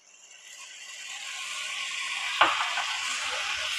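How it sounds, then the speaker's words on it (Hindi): Tomato and onion gravy frying in a pan, a steady close sizzle that swells gradually, with one brief knock of a utensil partway through. "टमाटर और प्याज की ग्रेवी तैयार होने तक पका लेंगे।"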